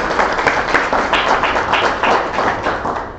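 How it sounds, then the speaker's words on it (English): Dense applause from an audience, many hands clapping steadily and loudly throughout without any talking. "Could you kindly give Mwende another round of applause?"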